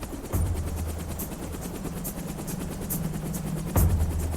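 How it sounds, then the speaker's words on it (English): Steady thudding rotor chop of a helicopter at an offshore oil platform, with a low engine drone, continuous and fairly close throughout. "another helicopter is about to leave an oil platform."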